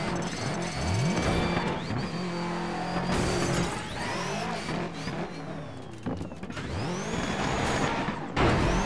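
A rally car in the DIRT 3 off-road racing game revs and accelerates, its engine note climbing in repeated surges with gear-change dips, loud and continuous throughout, alongside in-game clatter and effects.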